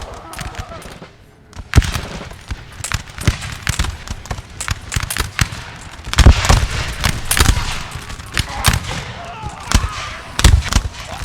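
Musket volleys in Napoleon Total War at the battle of Austerlitz, with sharp cracks ringing out repeatedly in ragged bursts, some close and loud, others overlapping in dense fusillades, amid battlefield noise and occasional voices.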